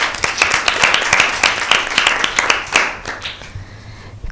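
Audience applause at a Bible quiz show after a correct answer, a burst of many hands clapping at a brisk rhythm, fairly close, fading out after about three seconds.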